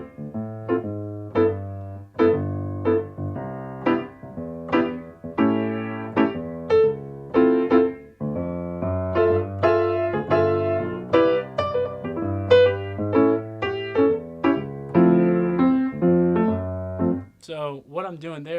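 Jazz piano with the left hand laying down a swing two-feel bass pattern under chords: a steady, close solo piano with regular rhythmic bass notes and comping, ending in a short fluttery flourish, no talking.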